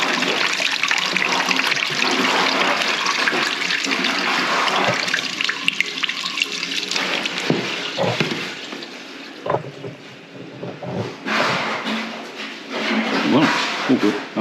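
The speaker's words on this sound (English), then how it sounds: "Chuck a bit of water down it and see what happens." Water rushes and gurgles down a newly fitted toilet in a steady pour, then trickles and splashes intermittently as it empties, close by.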